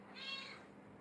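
A single cat meow, close and clear, rising then fading over about half a second with faint room noise around it.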